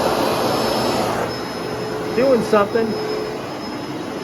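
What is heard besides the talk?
carpet steam cleaner running, brush spinning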